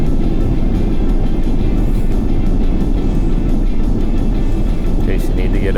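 A 2019 Ford Flex accelerating, heard from inside the cabin as a loud, steady low engine rumble and road roar that holds throughout.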